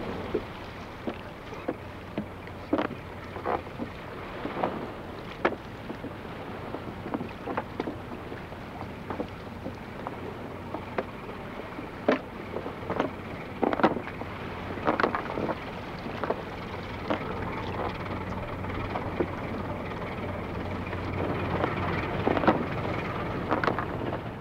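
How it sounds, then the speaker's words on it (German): Fishermen row a flat-bottomed wooden fishing boat on the Rhine, oars dipping and knocking in a slow, irregular rhythm of distinct strokes over soft wind and water noise, close to the microphone. "Vor dem nächsten Fang rudern die Fischer das Boot in Ufernähe zurück."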